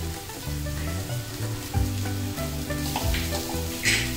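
Soaked poha being mixed and stir-fried in a pan for Jain peri peri poha, with a steady close sizzle and occasional scraping stirs throughout, no voices.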